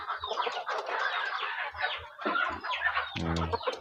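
KUB native village chickens, young pullets near laying age, cluck and chatter continuously as a close flock, with overlapping calls and a louder burst near the end.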